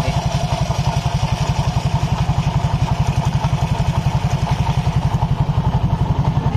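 Honda Vario 150 scooter engine idling after its pulley has been sprayed, a steady, even mid-pitched putter with a rapid regular pulse, loud and close with no talking.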